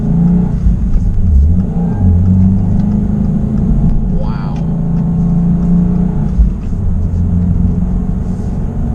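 A 2026 Subaru WRX tS engine roars steadily under hard acceleration, a loud, continuous rumble close up, with a single brief exclamation from a voice inside.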